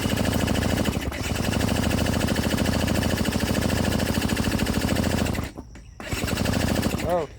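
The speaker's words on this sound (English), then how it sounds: "Moving the throttle and pushing the ignition." A motorized bicycle's small engine runs loud and close with rapid, rattling firing pulses, stops briefly, then revs again; a short voice-like sound comes near the end.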